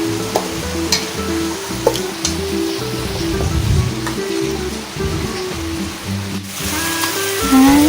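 Potatoes fry in a pan for khichuri, a steady close sizzle with a spatula stirring and scraping in a slow rhythm, some sharp clinks against the metal, no voices.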